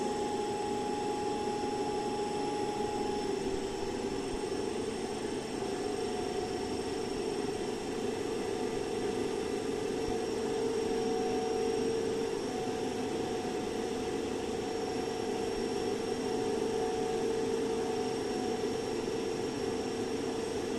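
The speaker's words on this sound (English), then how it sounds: "we have to vary this rheostat in such a way that the motor reads 1500 RPM" A DC motor held at 1500 RPM under no load during a Swinburne's test gives a steady, unbroken electric hum with a thin high whine, level and continuous with no voices.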